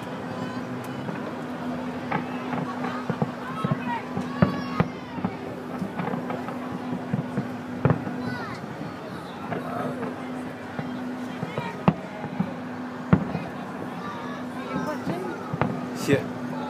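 Distant fireworks over the Auckland Viaduct on the opening night of the 2011 Rugby World Cup: irregular dull booms and sharp cracks go off across the whole span, heard far away beneath steady crowd chatter and a low hum.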